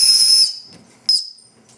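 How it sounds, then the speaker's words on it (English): A military survival whistle from an MRE accessory pack gives two sharp, piercing shrill blasts, the first held about half a second and the second shorter, loud and close with no talking. "We have a survival whistle,"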